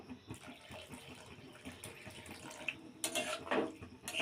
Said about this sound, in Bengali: অল্প একটু জলও দেবো